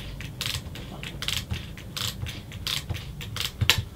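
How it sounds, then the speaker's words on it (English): Spring mechanism of an 8mm movie camera wound by hand, a close series of dry ratcheting clicks in rhythmic bursts about every half second over four seconds. "So we wind it up."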